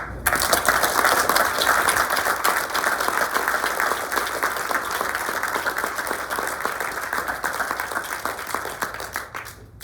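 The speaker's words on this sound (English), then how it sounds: "I would rather hear a little more raucous applause for each and everyone applauding ourselves." Raucous applause at an energy storage project dedication ceremony, loud crisp clapping from a modest crowd with sharp individual claps standing out, steady throughout and cutting off abruptly at the end.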